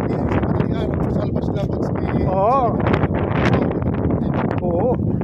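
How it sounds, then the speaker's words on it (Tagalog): Strong wind buffets the microphone in a steady broadband roar, with a voice talking loudly over it and a brief vocal sound. "Sobrang lakas ng hangin na naman mga kabayani"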